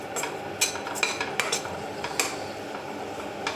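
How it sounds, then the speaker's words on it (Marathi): Gram flour (besan) is roasted over a low flame in a pan and stirred with a metal spoon, giving irregular scraping clinks and taps against the pan, close and fairly quiet, with no talking. "तर ते बेसन आपलं चांगलं भाजायला पाहिजे, नाहीतर बेसन नाही भाजलं तर मग भाजी चांगली लागणार नाही."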